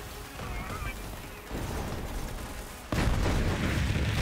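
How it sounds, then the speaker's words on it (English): Borderlands 3 gunfire rattles in sustained bursts with a heavier, louder barrage near the end, mixed with game effects while a player speaks. "Is he still shooting us?"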